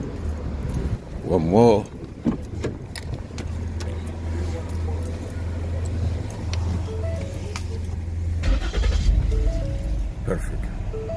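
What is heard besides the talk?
Ford Edge engine starting and running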